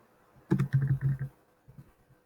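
A short burst of typing on a computer keyboard, about half a dozen quick close keystrokes in a row followed by a few softer taps, with no talking.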